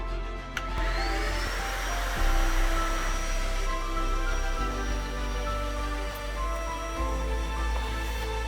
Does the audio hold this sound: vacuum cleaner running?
yes